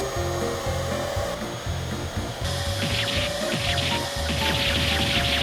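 A vacuum cleaner with a mask tied over the end of its tube runs close and loud, a steady rough roar with a rhythmic low pulsing and a hissy airflow that grows slightly brighter partway through.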